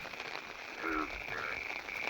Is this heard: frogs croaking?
yes